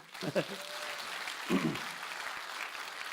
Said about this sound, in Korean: 박수 주세요, 크게요.